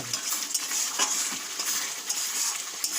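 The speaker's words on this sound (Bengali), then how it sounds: "এবার আলুগুলো দিচ্ছি" Potatoes are added to pulao cooking in a pan, giving a steady bright sizzle of frying with soft stirring scrapes and small clinks close by, and no voice.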